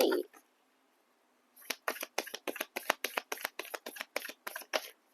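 Tarot cards being shuffled for a horoscope card reading, a voice briefly at the start followed by a quick run of about a dozen crisp, evenly spaced riffling snaps, close and clear.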